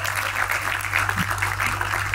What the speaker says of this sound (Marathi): जोरदार टाळ्या जाऊ द्या